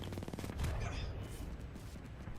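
Rapid SMG bullet-hose fire during a Titanfall 2 match, a dense fast burst of shots under continuous loud game noise, with a voice talking over it.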